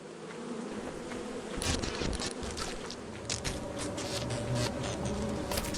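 Dense insect buzzing from a beehive in the game Lethal Company, a continuous droning hum with scattered clicks and footsteps on top, steady and fairly close.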